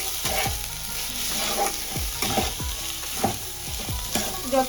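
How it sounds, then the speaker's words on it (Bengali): Green chillies with ground coriander and cumin being stirred in a frying pan, a steady sizzle broken by repeated scraping strokes of the spatula, close and alone. "দিয়েও আবার ভালো করে নাড়াচাড়া করে নেবো একটু"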